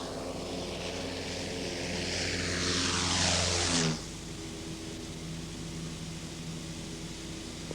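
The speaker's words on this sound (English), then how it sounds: "he flies his own plane" A small private plane flies past, its propeller engine droning as it swells to a loud, close peak and then drops abruptly to a steady lower hum as it moves away.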